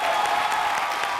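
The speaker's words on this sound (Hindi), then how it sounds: "जोरदार तालियां" A short burst of dense applause from a studio audience at a comedy show, many hands clapping together in a steady wash of sound.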